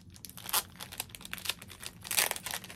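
A small packet of Garfield stickers crinkles and rustles as a handful is pulled out, close and moderately loud, with several sharper crackling bursts and no talking.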